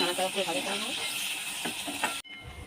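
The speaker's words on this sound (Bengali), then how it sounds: "এবারে এটা হালকা নাড়াচাড়া করে ভাজা করে নেবো।" Finely chopped onion frying in oil while being stirred, a continuous sizzle and hiss with a voice running underneath, cut off abruptly near the end by a short quieter stretch.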